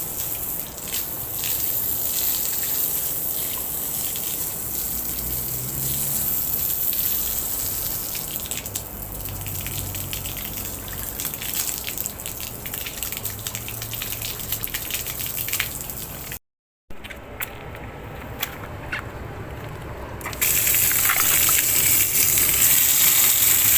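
Water from a 1.0 HP electric water pump gushes steadily under strong pressure for a long stretch. A brief silent break follows, then a louder, brighter spray of water near the end.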